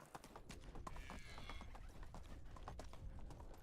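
A horse's hooves clip-clop at a steady trot in the medieval village game Medieval Dynasty, quiet but distinct, with a brief whinny-like tone early on.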